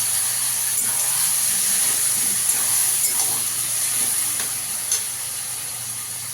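Pointed gourd tossed into a pan of frying shrimp and onion sets off a loud, steady sizzle and hiss that runs throughout, with faint stirring scrapes beneath.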